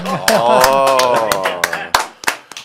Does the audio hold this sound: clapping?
yes